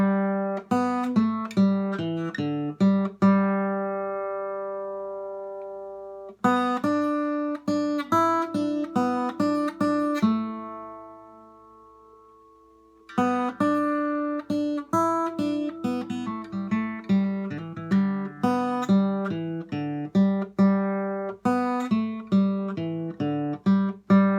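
An acoustic-sounding guitar picks out the melody of the song This Train in steady, clear notes, with two pauses where chords ring and fade before the tune resumes, played alone and close.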